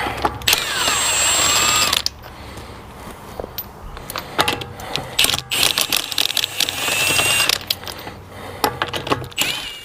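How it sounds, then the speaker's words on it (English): A ratchet wrench removes front brake bolts on a 2014-2018 Jeep Cherokee KL, with quick clicking runs, metallic clinks and clatter of loose parts, close up and continuous with brief pauses. "Now we can work on taking the rest of these bolts out"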